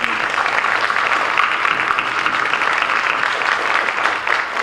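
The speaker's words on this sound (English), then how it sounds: "let's give another applause" A crowd at a meeting claps steadily in sustained applause, dense and even throughout, with faint voices mixed underneath.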